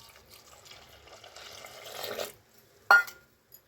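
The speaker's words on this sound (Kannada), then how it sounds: "ಈಗ ನೀರು ಹಾಕ್ಬಿಡೋಣ." Water poured into a cooking pot holding tomatoes, chilli powder and sambar powder for a Mandya-style palak huli, a soft splashing trickle building over two seconds, then a sharp clank near the end.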